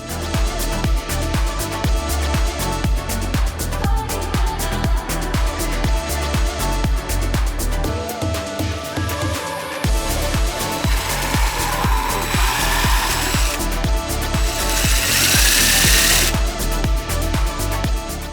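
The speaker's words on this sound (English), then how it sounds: "I just need to drill some holes for my screws and then be able to countersink them" A power drill bores screw holes into a wooden blank for a home decor piece, giving a loud continuous grinding whir with repeated bursts and a harsher high whine near the end.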